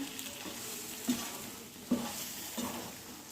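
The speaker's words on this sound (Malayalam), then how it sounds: "ഇതുപോലെ നല്ല പോലെ ഒന്ന് മിക്സ് ചെയ്തെടുക്കാം" Green gram and jaggery sweet mixture being stirred in a pan, a soft continuous sizzle with three light scraping strokes of a spoon at steady intervals, close and unaccompanied by talk.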